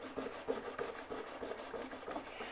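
A cloth rubbed firmly over a violin's wooden body to clean and polish it, making a close, steady scrubbing rasp with rhythmic strokes and no talk.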